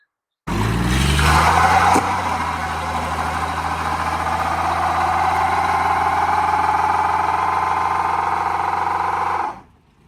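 An old car that had not run in over 20 years, heard under its own power: a steady engine drone begins abruptly, with a brief rise early on, holds evenly, then cuts off suddenly.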